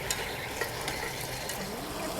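Quiet, steady sizzling of duck meat stir-frying in a pan for duck hot pot, with faint scraping from stirring and no voices.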